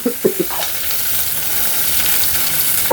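Dried red chillies sizzle and crackle in hot oil in a pan, a steady close frying hiss after a few sharp clinks of a utensil at the start.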